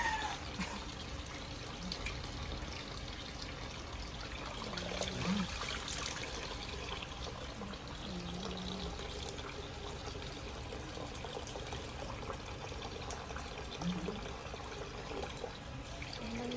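Water runs continuously from a tap while school clothes are hand-washed at home, a steady close trickling and splashing wash with soft occasional clatters and no break across the stretch.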